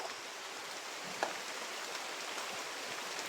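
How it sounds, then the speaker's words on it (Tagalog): Rain pours steadily on a mountainside in hot weather, a dense even hiss with scattered drop impacts and no voices. "Grabe, walang patawad na yung ulan."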